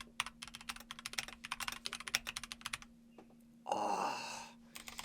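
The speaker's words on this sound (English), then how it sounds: "listen to how nice my keyboard sounds" Rapid clicky keystrokes on a mechanical keyboard indoors, near and crisp in quick bursts with brief pauses, followed by a short breathy sigh.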